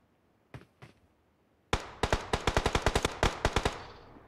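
Rapid bursts of video game gunfire, a couple of isolated shots followed by a fast, loud string of repeated cracks.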